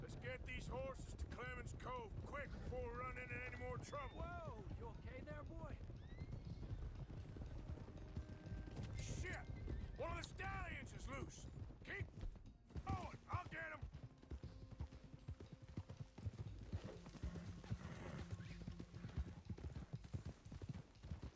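Horse hooves clip-clopping at a steady riding rhythm in Red Dead Redemption 2, with game sounds and occasional speech over the continuous hoofbeats.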